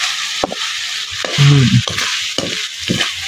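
Ingredients for Bicol Express sizzle in hot oil in a pan, stirred with short scraping bursts and a brief louder hiss, close and fairly loud with no talking.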